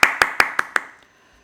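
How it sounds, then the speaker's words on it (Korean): Five crisp hand claps in an even, quick rhythm, close and fairly loud, before the sound dies away to silence. "박수!"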